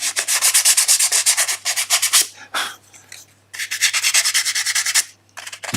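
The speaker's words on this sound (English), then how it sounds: "So just a little bit of sanding there" Rhythmic hand sanding of a small wooden dovetail box part, quick rasping strokes in two long bursts separated by a pause, close and loud with no talking.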